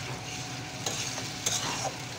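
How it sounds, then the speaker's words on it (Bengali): Taro chunks being stir-fried with spices in a pan, with a steady low sizzle and a few brief scrapes of a spatula, all close by, with no talk. "কচুগুলা দিয়ে এবার একটু কষায় নেব"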